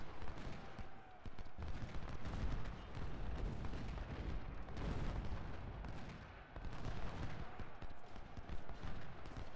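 Artillery fire in Ultimate General: Civil War rolls as a dense, continuous battle din of overlapping booms and crackling volleys, steady and fairly loud throughout, with a brief dip midway.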